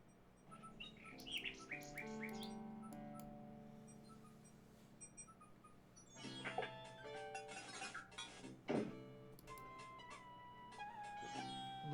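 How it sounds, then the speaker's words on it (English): A nightingale sings on a high tree branch in the video game King's Quest 6, with bright, clear warbling chirps in quick runs, heard alone against quiet game ambience. "A nightingale perches on a high branch of the tree. She sings the most beautiful song Alexander has ever heard."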